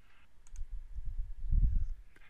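A couple of light, crisp computer mouse clicks in a quiet room over a faint low rumble, brief and close.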